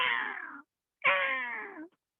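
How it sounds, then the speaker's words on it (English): Great jacamar call with a cat-like quality, two drawn-out, mewing, downward-sliding notes with a brief gap between them, heard clearly and alone. "sometimes they sound like a cat doing that"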